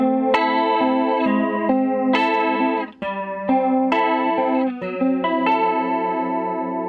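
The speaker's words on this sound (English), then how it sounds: "ST is based on MSR stereo chorus." Electric instrument chords run through a Cerberus effects unit with its MSR-based stereo chorus engaged, a lush, shimmering wash of sustained notes that changes every second or so and plays loud and continuous with no talking.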